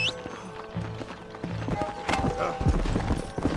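Horse hooves gallop in the Red Dead Redemption Wild West video game, a steady clip-clop mixed with game music and other sounds, with a voice briefly heard.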